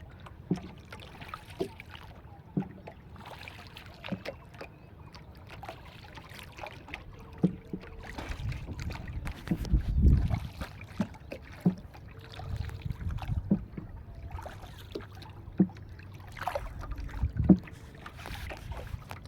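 A small boat moves across the water of Morjad baor, an oxbow lake, with a low steady rumble, scattered knocks and light splashes, occasional louder bursts and a faint windy hiss, with no voices.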